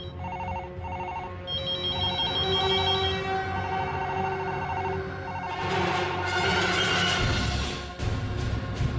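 A telephone rings repeatedly in a steady electronic trill, loud and continuous, with no one speaking.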